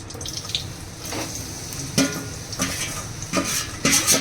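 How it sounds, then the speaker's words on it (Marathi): Dried dates (kharik) roasting in ghee in a pan, with steady stirring scrapes and a soft sizzle, close by and alone, a few sharper scraping strokes standing out. "जे खारीक होते ना ते भाजून घेऊया आपण"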